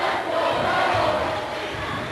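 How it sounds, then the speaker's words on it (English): A home crowd roars and cheers at a boys basketball game between Hillsboro and Franklin, a loud, sustained wash of voices with no break. "And their crowd is letting them hear it."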